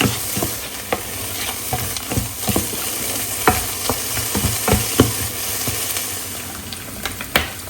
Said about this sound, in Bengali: তা আমি সবজিটা একটু লবণ দিয়ে ভেজে নিচ্ছি হালকা করে।